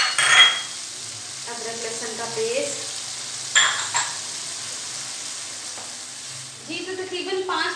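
Tomato puree, green chilies and spices sizzle and fry in a pan for stuffed round gourd, a steady crackle with occasional scraping stirs and a voice speaking over parts of it.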